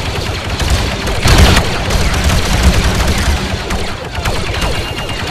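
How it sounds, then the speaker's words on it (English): Machine gun fire in the Star Wars Battlefront VR game, rattling in dense, continuous bursts with a heavy blast near the start, loud and close throughout. "I want in here and to use the machine gun."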